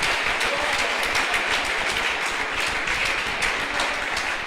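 A church congregation applauds in worship, a steady wash of many hands clapping at moderate loudness, with no voices over it.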